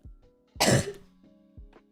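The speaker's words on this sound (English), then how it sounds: "A bit of a cough." A single harsh cough bursts out mid-clip, loud and close, with quieter throat noises and faint voice sounds before and after.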